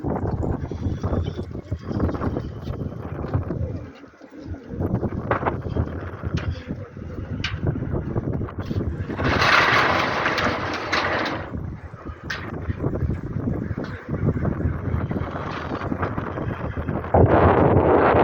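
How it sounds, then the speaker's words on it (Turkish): Steady wind buffeting the microphone, a continuous rough rushing roar with gusts that swell and fade, no voices. "rüzgar bir yandan vuruyor yüzümüze"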